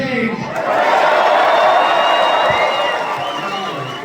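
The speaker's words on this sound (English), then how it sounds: "Oh, what an incredible crowd we have here." A rally crowd in Oakville swells into loud cheering and whooping, peaking and holding before easing slightly at the end, with many voices shouting together.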